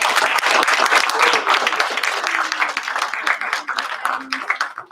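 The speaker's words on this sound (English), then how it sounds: "So big round of applause to Josh." Audience applause at a poetry event in Bendigo, a steady crowd clapping for a poet that holds loud and dense for most of the stretch, then thins and tapers toward the end with scattered claps and faint voices underneath.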